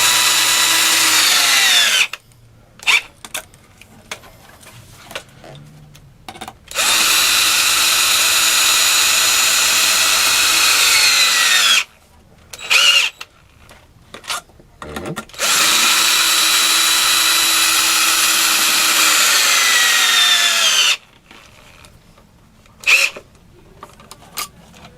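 A power drill mounts plates onto a pair of roller skates, whirring loudly in three long sustained bursts, with short stop-start blips and quiet pauses in between.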